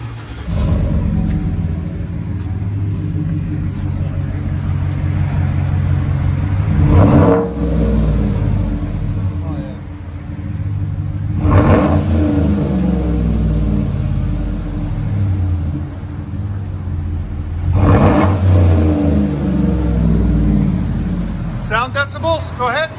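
A 2014 GMC Sierra with a 5.3L V8 and dual exhaust rumbles at idle, with three strong revs spaced several seconds apart, each a quick loud roar that drops back to a steady burble; voices talk over it.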